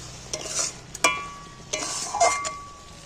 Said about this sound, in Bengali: এবার আমি একটু মশলাটা ঘেটে দিচ্ছি এর সাথে